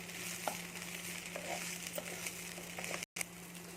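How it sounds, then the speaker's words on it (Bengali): Steady crackling sizzle of rice frying in a pan, with occasional scraping stirs and a brief dropout near the end; no voices. "এর সাথে ভালো করে নেড়ে দিলে ভালোভাবে একটু ভাজা ভাজা হয়ে যাবে"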